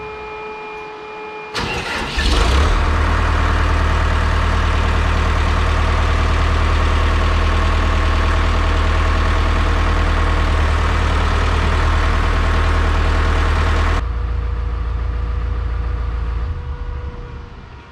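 Grape harvesting machine engine starting with a sharp crank, then a loud steady low idle running close by for about twelve seconds before dropping off.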